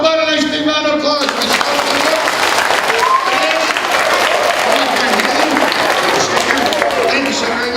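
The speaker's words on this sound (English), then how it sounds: "How about a nice big round of applause?" A school assembly audience at a police officer's presentation breaks into loud, sustained applause, a voice speaking briefly at the start before the clapping swells and fills the room.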